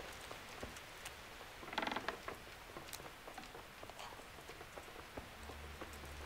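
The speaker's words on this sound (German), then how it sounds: "Und es regnet noch immer." Rain in the video game Kingdom Come Deliverance falls as a quiet, steady patter with scattered drop ticks and creaks, soft and continuous in the background.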